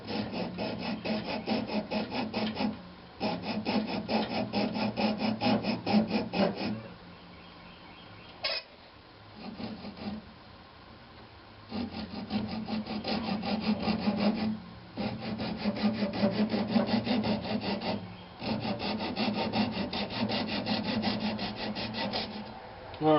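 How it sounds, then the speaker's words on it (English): Sandpaper rubbing against the spinning bottom of a spalted oak vase on a wood lathe, a steady close raspy hiss in several long passes broken by short pauses. "now I'm going to go ahead and sand up the bottom as much as I can"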